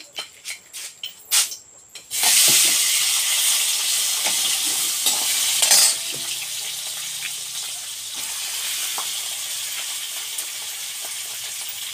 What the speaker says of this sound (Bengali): তো মাছগুলোকে আমি এখন ভেজে নেব।